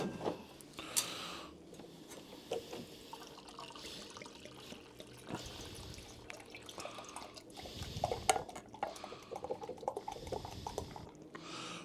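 Beer pours from a PerfectDraft Pro keg of St Austell Proper Job: a soft trickling, dripping stream of liquid running close by for several seconds, with no one talking.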